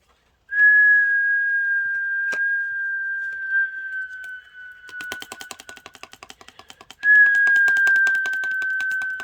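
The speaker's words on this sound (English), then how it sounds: "You've got the most sort of whistles out of that I've done since I've started doing this light language" A person whistles during vocal light language, holding long steady pure tones, first alone and then over a rapid fluttering tapping passage, before a final sustained whistle returns loud and close.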